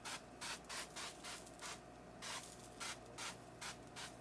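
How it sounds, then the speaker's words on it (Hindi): Repeated hissing spray bursts onto golden-browned tandoori chicken tikka cooked at home without an oven, about eight short, close puffs in an uneven rhythm over a steady low background hum, with no voices. "अब इस पे स्प्रे करेंगे।"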